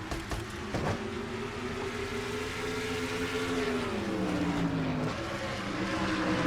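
Race cars in an oval racing video game, several engines droning together with pitch that slowly rises and falls, one note dipping near the end as a car lifts through the fourth corner, steady and fairly close throughout.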